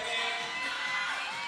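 Crowd noise inside Moody Coliseum during an ACU volleyball match against Grambling State, a steady broad roar of many voices building in the arena with no single voice standing out.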